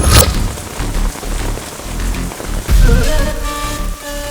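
Heavy rain pours steadily in a dramatic scene from a Hindi-dubbed South Indian action film, a dense, loud broadband wash with low rumbling swells near the start and again midway, and no speech.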